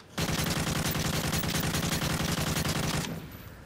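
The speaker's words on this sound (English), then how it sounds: "Now when I scope in to fire that fully automatic rifle" A fully automatic rifle fires a rapid, unbroken burst for about three seconds in an Xbox 360 shooter game, loud and close, then the shots cut off and a short fading tail follows.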